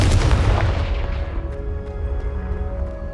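A Confringo blasting spell from the video game Hogwarts Legacy goes off with a heavy, booming explosion right up front, then rumbles and rings as the blast tails away, leaving faint tonal game ambience.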